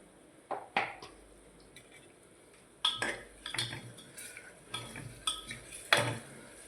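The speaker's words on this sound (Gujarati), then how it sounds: "આ રીતે મીઠું નાખી દીધું, મિક્સ કરી લીધું" A spoon stirs salt into a pot of bottle gourd and chana dal curry, making several scraping, clinking strokes in irregular bursts with quiet pauses between them.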